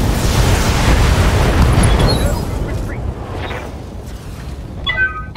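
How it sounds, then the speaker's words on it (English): A heavy explosion as an enemy mech is destroyed in the BattleTech video game, a loud broadband roar and rumble that holds for about two seconds, then decays into a lingering low crackle and debris noise. "Enemy mech destroyed."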